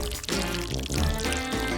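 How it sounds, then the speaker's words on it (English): Candy poured into a container for a homemade cat craft, a steady rattling, rushing pour lasting under two seconds with a brief pause partway through, close and fairly loud. "I'll pour the candy into it."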